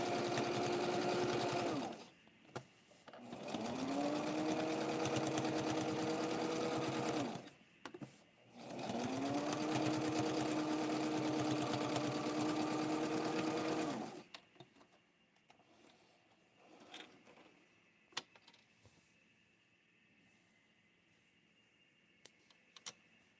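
A sewing machine runs in three long bursts, stitching the bottom of a handmade doll dress, its steady whirring motor loud and close with short pauses between runs, then quiet handling noises follow.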